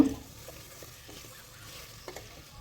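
Sugar being stirred in a pan over low-medium heat until it melts, a faint, quiet scraping and soft sizzle with a few sparse utensil knocks, no talking.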